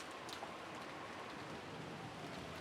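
Heavy rain downpour in the visual novel Umineko, a steady dense hiss of falling water filling the whole clip at an even level with no pauses.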